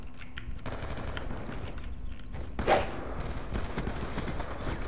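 Video game gunfire from Black Ops 2 Gun Game, rapid sustained bursts rattling continuously at a steady level, with one sharper, louder crack partway through.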